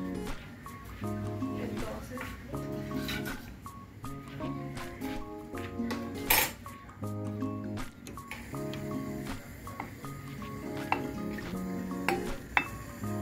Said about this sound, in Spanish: Se tiene que sofreír el ajo.